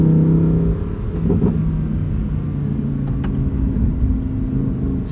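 A 2023 Lamborghini Huracan Tecnica with a 7-speed dual-clutch gearbox pulls hard, its engine droning loud and steady with a brief shift dip early on, heard from inside the cabin.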